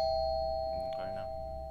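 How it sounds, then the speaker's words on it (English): A doorbell chiming steadily at a house door, one sustained electronic tone ringing clearly through the short clip, with a brief muffled voice in the middle. "Stop ringing the fucking doorbell."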